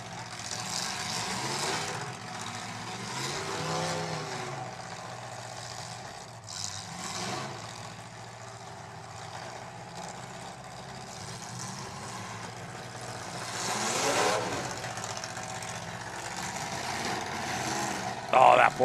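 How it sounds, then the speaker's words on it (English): Rough-running engine of a demolition derby car after restarting at a live derby in Mobridge, South Dakota, an uneven distant rumble with surges, under crowd noise and a commentator talking. "Oh, that poor motor just sounds hurt."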